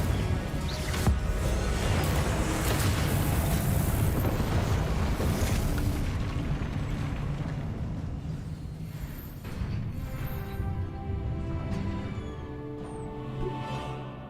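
Incendio fire spell in Hogwarts Legacy, a roaring, crackling burst of flame that surges loudly for several seconds, then slowly fades into a lower, rumbling crackle.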